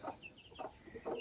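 A broody hen with her chicks in a henhouse gives a few soft clucks in short bursts, close by, with no talk over them.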